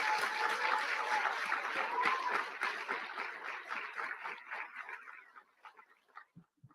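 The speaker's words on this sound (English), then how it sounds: "Let's give him another round of applause." An audience at a State of the City address applauds steadily, and the clapping thins out and fades to a few scattered claps at the end.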